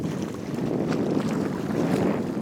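Sailboat getting under way off anchor in wind, with steady broadband wind and water rush buffeting the microphone, a continuous close roar without speech.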